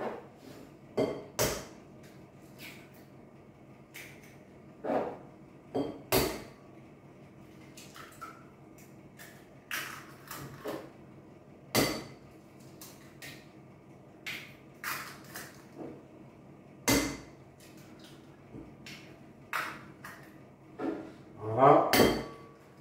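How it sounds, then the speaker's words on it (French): Eggs cracked against the rim of a bowl while making a cheese cake, giving sharp, close clicks and taps at irregular intervals amid kitchen clatter, with a cluster of cracking sounds near the end. "casser nos œufs"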